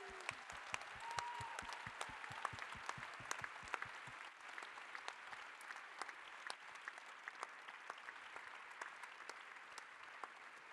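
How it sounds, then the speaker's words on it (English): An audience claps steadily throughout at the closing fireside chat of the Fifteen Seconds Festival 2017. The applause sounds distant and quiet, a sustained patter of many hands with no voices. "So give it up, round of applause to the festival crew."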